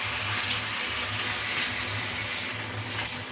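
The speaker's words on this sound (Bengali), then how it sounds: "আমি এখানে এখন অল্প পরিমাণে জল দিয়ে দেব" Water pours steadily into a pan of browned meat curry with potatoes, a continuous close gush and splash with no talk.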